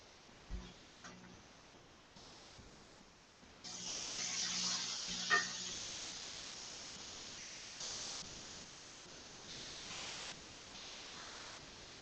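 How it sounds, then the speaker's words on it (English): Pork searing in a hot pan, a faint steady sizzle that swells louder after being turned over, with occasional light clicks and taps of utensils against the pan and no talking. "let me just turn the pork over again"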